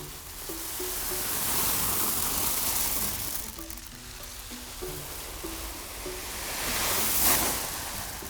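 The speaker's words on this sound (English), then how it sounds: "It sounds like waves on a pebbly beach." Steady rushing, hissing wash like surf rolling over pebbles, swelling and easing in slow waves, made by shaking gravel inside cloth; faint tones drift underneath.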